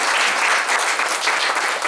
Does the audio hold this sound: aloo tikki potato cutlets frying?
no